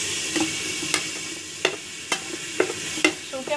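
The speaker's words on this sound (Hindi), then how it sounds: "ये सब चीज़ डाल के हम 2 मिनट के लिए इसको भून लेंगे।" Ginger garlic paste frying with chili, salt, turmeric, coriander and green chilies for a turnip spinach mutton dish, sizzling softly while a spoon scrapes and stirs the pan in sharp, irregular strokes, close and alone.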